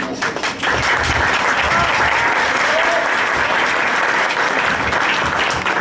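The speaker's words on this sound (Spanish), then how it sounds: "muchas gracias por esos aplausos" Dense, steady audience applause fills a press conference at Mexico City's Museo del Estanquillo, loud and continuous throughout, with faint voices mixed in.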